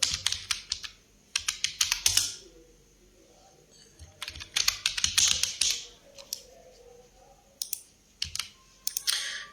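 Someone types a page name on a computer keyboard. Quick bursts of crisp key clicks come in uneven clusters with short pauses between them, heard up close.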